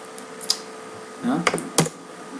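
Computer keyboard keys tapped in a few quick, close bursts of clicks, fairly quiet against a steady background hum, with no talking.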